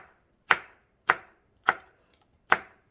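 A knife slices chili peppers on a cutting board in four crisp, evenly spaced chops, each a sharp close thud with a short decay, in an otherwise quiet room.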